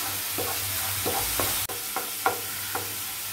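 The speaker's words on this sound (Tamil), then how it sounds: "இது கொஞ்சம் வதங்கட்டும்." Ingredients for wood apple chutney sautéing in a pan: a low, steady sizzle with about half a dozen distinct spoon stirs and scrapes at a regular pace, close and clear without any talk.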